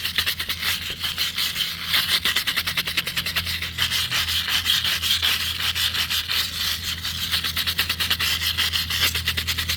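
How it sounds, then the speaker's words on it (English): A wire brush scrubbing out a hole, a loud steady rasping scrape in quick rhythmic back-and-forth strokes, close and continuous. "First step is to clean everything with a wire brush."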